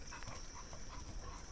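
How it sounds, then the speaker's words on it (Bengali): Dogs near a guava orchard along a road to a station outside Baruipur, Kolkata, heard faintly at a distance with soft whimpering and yipping over steady background hum. "ওরা কুকুরগুলো"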